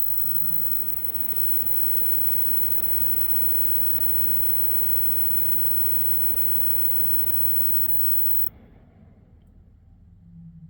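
An HVAC blower motor runs with a steady, dense whir that holds strong and even, then drops off a little near the end, heard close up with no talking.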